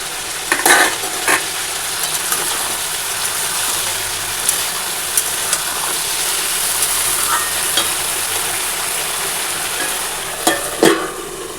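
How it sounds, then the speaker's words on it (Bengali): Mixed vegetable chorchori frying in a pan with bay leaf, one dried chilli and panch phoron, a steady broad sizzle with occasional stirring scrapes and clinks, close by and with no talk. "সব রকম সবজি দিয়ে যে চচ্চড়ি বসিয়ে দিয়েছি ফোড়নে দিয়েছি তেজপাতা একটা শুকনো লঙ্কা আর হচ্ছে পাঁচ ফোড়ন"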